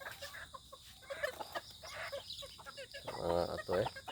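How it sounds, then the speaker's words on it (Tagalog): Chickens and small chicks cluck and peep inside a hut, the clucking steady and close throughout, growing louder and busier near the end. "Ito yung mga sisiw ko guys eh."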